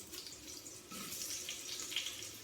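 Potatoes frying in hot oil in a pan over medium-low heat, a steady soft sizzle and hiss that continues evenly through the short stretch with no talking.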